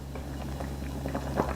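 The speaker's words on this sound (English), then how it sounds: "It's boiling." Mango marmalade boils in a pot on the stove, giving soft, irregular bubbling pops over a low steady hum, close and fairly quiet.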